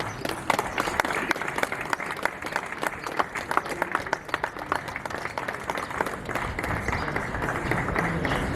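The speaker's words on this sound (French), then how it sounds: "je vous demande de l'applaudir très très fort" Steady applause from a large crowd at a funeral, dense clapping that holds at an even level throughout without pause.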